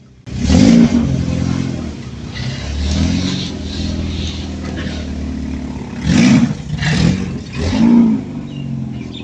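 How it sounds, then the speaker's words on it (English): A VW Mk1 Fox with a 1.9i engine and a tacked-together, patched exhaust idles loudly and raspily up close, with a rev at the start and three sharp throttle blips near the end. "with the exhaust patched together and held together with a few tacks and a bit of gangam, well, this is what the exhaust sounded like"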